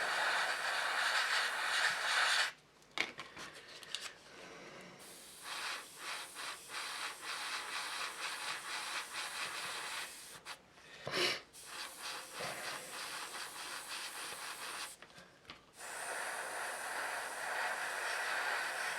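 A spray gun lays down a light mist coat of primer in long steady hissing passes, broken by short pauses between bursts, fairly close and alone without talk.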